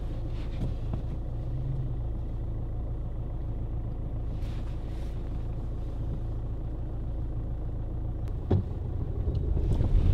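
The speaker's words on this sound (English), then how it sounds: "More gas. Apply more gas to the biting point." A car engine rumbles low and steady from inside the cabin during a driving lesson in Madrid, with a brief knock and the engine swelling slightly toward the end.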